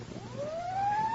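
A single emergency siren wails upward in pitch as it races toward a fire, rising steadily and growing louder over about a second in a city setting, with a low rumble of traffic underneath.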